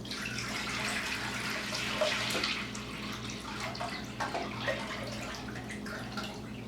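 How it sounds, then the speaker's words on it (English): A gallon of water is poured into a crock pot for meat stock, making a steady, close splashing and gurgling stream with small drips and sloshes throughout. "you're just going to add the water here, and I got a gallon of water"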